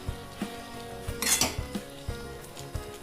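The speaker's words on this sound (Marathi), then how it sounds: "हलवून घ्यायचंय" Tomato sauce seasoned with chilli powder is stirred in a pan, giving rhythmic scraping and knocking strokes about every half second over a low simmering sizzle, close by and without voices.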